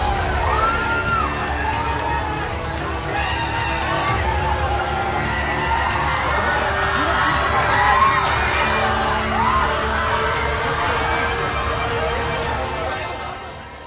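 An excited crowd of fans screams and shouts on seeing actor Allu Arjun. The loud, continuous din of cheers, whoops and yells swells slightly midway and fades near the end.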